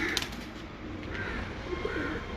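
A large breeder pigeon coos softly a couple of times at close range, low and muted against a steady background hiss, with a brief flutter near the start.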